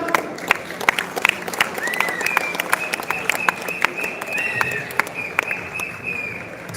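Scattered applause with a few sharp claps and light cheering from the audience at a badminton tournament closing ceremony, moderately loud and continuous beneath a sustained tonal hum, with faint background voices.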